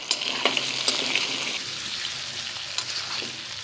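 Potatoes and carrots frying in hot oil in a pan, a loud steady sizzle with a few clinks and scrapes of a utensil early on, then settling into an even hiss without talk.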